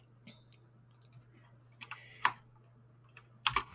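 Computer keyboard typing: scattered, irregular key clicks, quiet and close, with short bursts and pauses against a low steady hum.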